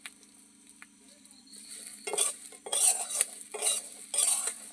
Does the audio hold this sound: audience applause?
no